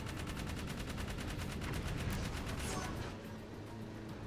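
Rapid automatic weapon fire in a fast even rhythm, loud and close for about three seconds before cutting off into quieter background noise, from the video game Jak 3.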